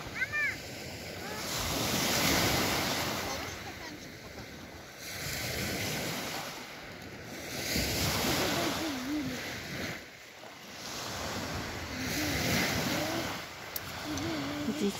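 Waves roll onto the shore of Lake Baikal in slow surging swells under gusting wind buffeting the microphone, with faint voices now and then.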